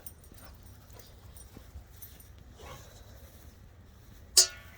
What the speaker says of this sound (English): I don't like that he's barking like this and stuff.